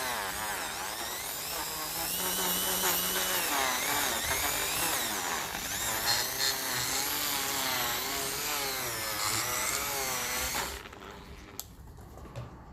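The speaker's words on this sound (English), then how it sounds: "I do have other heads I can put on the Dremel. So I should be able to polish up most of it." A Dremel rotary tool polishes parts of a 1953 Ferguson TEF 20 diesel tractor engine, its steady high whine wavering in pitch under load for about ten seconds before cutting off, followed by a few faint clicks.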